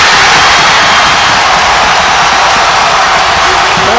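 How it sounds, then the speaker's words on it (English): A roaring basketball crowd at a Maryland Terrapins game, a dense, loud, steady wall of cheering and applause that holds evenly throughout. "Listen to this crowd."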